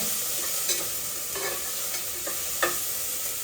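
Ginger garlic paste sizzles in hot ghee in a pan, a steady faint frying hiss broken by a few soft stirring scrapes, with no voices.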